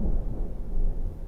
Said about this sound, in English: so I'm sure you heard that thunder